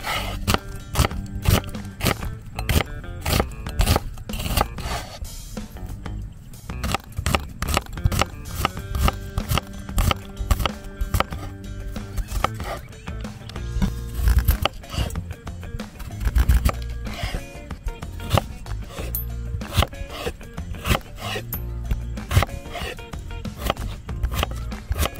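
Onions are sliced for outdoor cooking with a rapid run of crisp, crunchy cuts and knife taps, fairly close, continuing steadily with short pauses.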